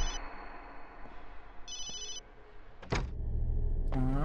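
A telephone rings in a horror game set at a school, its bright electronic trill repeating in short bursts over low background ambience, followed by a thud and rising tones.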